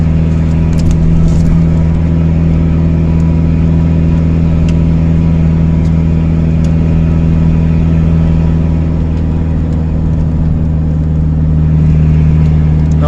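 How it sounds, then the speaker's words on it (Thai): Truck engine in a loaded Thai fresh-fish delivery run, shifting up through third and fourth gear on a wide three-lane mountain road; steady loud drone with slight rises in pitch, continuous throughout with no talk. "ขึ้นเกียร์สามเกียร์สี่นะครับ"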